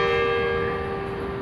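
A single bell sounds a clear sustained tone, ringing steadily and close with a rich, lingering resonance and no voices.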